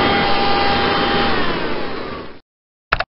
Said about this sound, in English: V. Vultures vacuum.